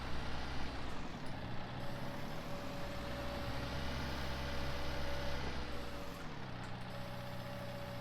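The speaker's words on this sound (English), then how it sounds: "This is a nice little skid steer to use actually." A John Deere skid steer in Farming Simulator 19 keeps up a steady engine drone with a low rumble and a faint tonal whine, holding close and fairly loud for the whole stretch, with no talk.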